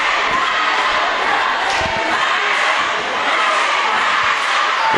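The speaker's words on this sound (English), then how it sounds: "The crowd is definitely into it." A loud crowd roars and cheers without pause at a middle school basketball championship game, a dense wash of voices with occasional thuds beneath it.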